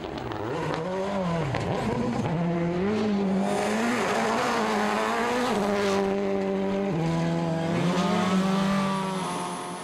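A Citroën rally car tearing through a WRC Rally New Zealand 2006 stage, its engine howling and shifting pitch through gear changes and revs, loud and continuous, with tyre squeal along the way.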